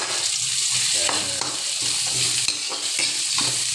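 Onion and garlic sautéing in a pan while being stirred, with a steady bright sizzle and repeated scraping strokes of a utensil at a close, even level.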